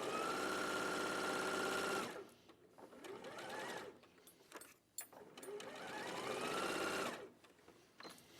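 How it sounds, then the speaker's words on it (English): A domestic sewing machine stitches the last side of a quilt block, its steady mechanical whirr running for about two seconds before stopping, followed by quieter handling noises and a second short burst of stitching. "So I'm just sewing the last side of this quarter block."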